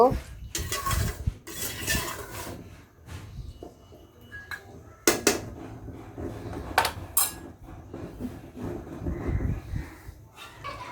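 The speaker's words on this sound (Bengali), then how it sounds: "আমি আর একটু নাড়াচাড়া করে দিব" Clanking and scraping of a utensil against a metal pan in uneven bursts, close by, with a quieter sizzle underneath, as beef is stirred while cooking.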